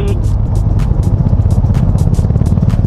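A stock motorcycle engine idles and revs nearby on a touring ride, giving a loud, rumbling, rapidly pulsing exhaust beat that runs steadily throughout without any talk.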